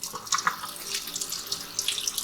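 Cool tap water runs steadily into a sink while cured bacon is rinsed under it, with irregular splashing bursts as the meat is moved through the stream, up close and unaccompanied by talk.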